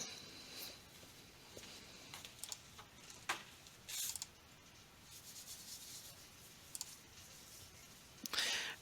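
A computer mouse gives a few faint, scattered clicks in a quiet room, with soft rubbing sounds between them.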